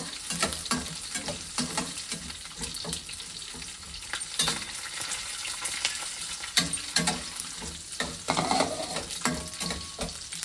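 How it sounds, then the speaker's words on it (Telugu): Cashews and green chillies fry in a pan, with a steady sizzle broken by repeated stirring scrapes and clinks, close up and fairly loud, with no talk. "తర్వాత జీడిపప్పు, పచ్చిమిర్చి వేసి ఒక జీడిపప్పు వేగనిచ్చి"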